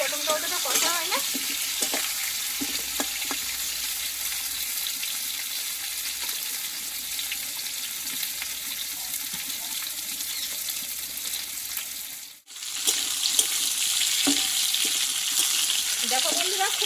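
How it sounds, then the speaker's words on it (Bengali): Pointed gourd (potol) sautés uncovered in a pan for a vegetarian dish, giving a loud, continuous sizzle with a brief break near the end, while a voice talks faintly underneath. "কিন্তু পটলটা আমি কষিয়ে নিচ্ছি"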